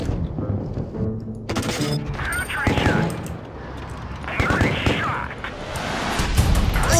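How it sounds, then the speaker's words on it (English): Tank cannon fire in the video game World of Tanks Blitz, dense overlapping booms and rattling bursts of battle noise that continue unbroken through the whole stretch. "So let's see if we can get a shot off right here."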